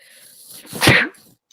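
A single loud sneeze erupts close by during a tabletop Dungeons & Dragons game, a short inhale building into a sharp burst that cuts off quickly.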